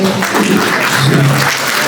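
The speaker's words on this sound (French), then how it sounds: "Je vous invite à applaudir et à accueillir comme il faut le Rav Yossi Amar" Loud, dense applause from a gathered audience welcoming a rabbi at a talk on combating antisemitism, a continuous near wall of clapping with no talk over it.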